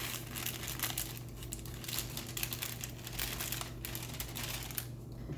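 Chocolate cake mix dumped from its plastic bag into a bowl, a close, continuous crinkling of the bag with soft rustles and a faint pour, no speech.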